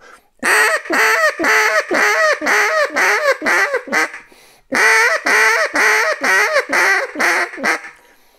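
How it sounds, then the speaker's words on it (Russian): A duck call blown in a Cajun squeal: two bursts of rapid, raspy squealing notes, each run of about seven calls descending slightly, loud and close with a brief pause between. "возьми манок, вспомни, как звучит этот звук на выдуве"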